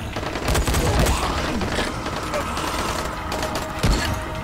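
A video game firefight with bursts of rapid gunfire crackling close and loud, plus a heavier thud near the end, all mixed under a person's voice.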